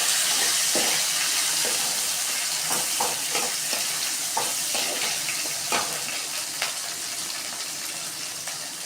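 Tomatoes fry and are stirred into a cauliflower curry, a loud, dense sizzle with repeated scraping stir strokes, the hiss easing slightly toward the end with no talking.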